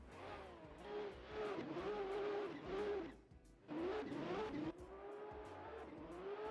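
A drift car at Tokachi International Speedway, Japan, burning its tires at the start of a qualifying run: loud high-revving engine wails with gear changes and rising pitch, tire squeal and skidding layered over it.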